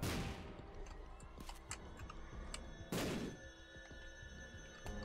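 Bombs going off in The Binding of Isaac, two sharp broadband blasts, the second louder near the three-second mark, over a steady bed of game music and effects.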